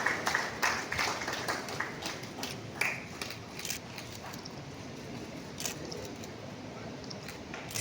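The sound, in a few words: audience applause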